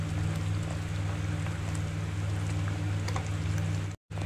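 Onion poori masala bubbles in a pan, a steady close simmer of thick popping bubbles with a low hum beneath, briefly cutting out near the end.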